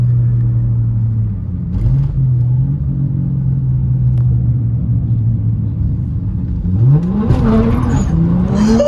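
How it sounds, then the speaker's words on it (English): Nissan S13 with a new exhaust, turbo and blow-off valve rumbles at a steady low drone from inside the car, then revs rise and fall near the end with brief hissing bursts. "you can hear the blow-off valve and the turbo,"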